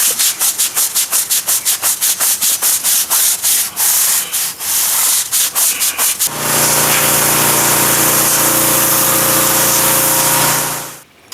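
Pavers are scrubbed to clear a white haze from water-based sealer, first with quick rhythmic strokes of brisk rubbing, then a steady loud hiss like a spray or power scrubber running continuously, close and without talk.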